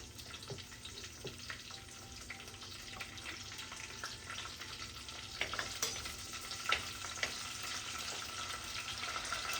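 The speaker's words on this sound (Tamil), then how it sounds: "கொஞ்சம் கருவேப்பிலை சேர்த்துக்கொள்வோம்" Curry leaves and green chili sizzle in hot oil in a clay pot while a mutton leg curry is prepared, a quiet continuous crackle with occasional sharper pops and stirring scrapes.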